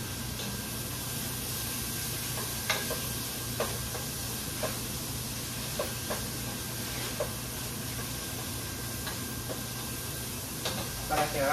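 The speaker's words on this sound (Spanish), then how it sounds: "Vamos a dejar que se sofría un poquito, gente. El tomate con la cebolla." Tomato and onion frying in a pan give a soft, constant sizzle and hiss with occasional small clicks and pops. A person talks over the frying noise throughout.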